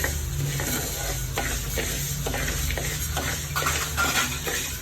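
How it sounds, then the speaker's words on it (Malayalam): Idli powder ingredients roasting in a dry pan while a spoon stirs them, giving a steady scraping rustle with a soft sizzle and repeated strokes against the metal, close and loud. "നന്നായിട്ട് വറുത്തെടുക്കാം ഓരോന്നോരോന്നായിട്ടേ വറുക്കാവൂ"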